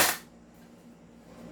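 An HK G28 DMR airsoft sniper rifle lets out one sharp, short pop at the very start, followed by quiet room tone.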